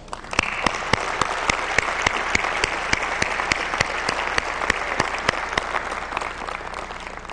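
Steady, dense applause from a large audience at Sony's E3 2005 press conference, loud and sustained without a break and mixed with sharp, evenly spaced clicks, with no voices over it.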